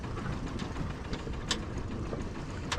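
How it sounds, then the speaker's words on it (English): Sailboat engine idling at low volume, a steady low rumble with faint mechanical ticks on top, running alone without speech. "So, I'm going to shut the engine off now."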